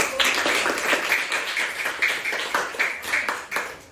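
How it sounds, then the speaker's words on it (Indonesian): Classroom applause after a group presentation: a dense, fairly loud burst of many hands clapping, with individual claps audible in an uneven rhythm, sustained for several seconds and slowly thinning toward the end. "Ya, kita beri tepuk tangan."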